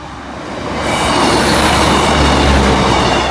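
A train rolls past Boultham level crossing, loud and close, with a rising rumble that swells into a sustained roar of wheels on rails. There is no talking.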